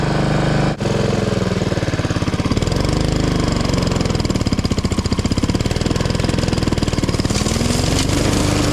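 A broken lawn mower engine runs loud and steady close by, its pitch rising and falling as it revs, with a rough mechanical rattle throughout.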